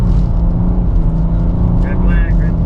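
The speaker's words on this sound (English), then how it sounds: "Charlie's gotten way better at drifting today." A 2024 BMW M2 drifts on a driving-school track with a loud, close engine roar held at high revs, while faint tire squeal rises near the end. Someone talks over it.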